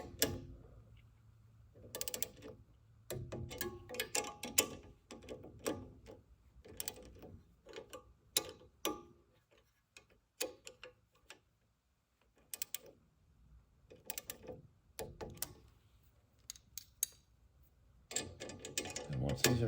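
A torque wrench tightens the coil pack bolts on a Carbon Cub SS aircraft engine, set at 80 inch-pounds: faint, irregular bursts of ratcheting clicks and metallic ticks separated by quiet pauses.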